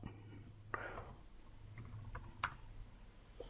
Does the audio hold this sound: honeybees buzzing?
no